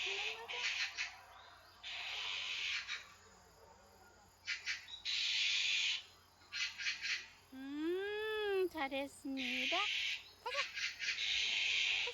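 Bird calls ring out in bursts near a house, likely resident magpies together with azure-winged magpies, with harsh repeated chatter alternating with insect-like buzzing and quieter gaps.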